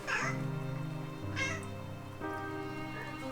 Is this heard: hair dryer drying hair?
no